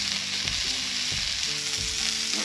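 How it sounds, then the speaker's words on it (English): Pita bread sizzling on a hot griddle outdoors in the mountains, a continuous crackling fry with a few soft scraping or shifting sounds, close and alone without talk. "I'm going to heat it up on the griddle."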